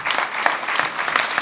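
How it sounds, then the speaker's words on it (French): An audience applauds the rabbi of Boulogne at a concert event, a steady dense clapping from a crowd, close and continuous throughout. "vous pouvez l'applaudir"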